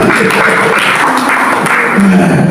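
A church congregation claps together in a loud, dense wash of applause that holds steady throughout.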